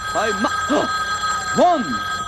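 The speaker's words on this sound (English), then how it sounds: "One ring! That's a telephone." A telephone on a Muppet sketch rings in a warbling electronic tone, with a two-part ring and then another after a short pause, loud and close with no talking.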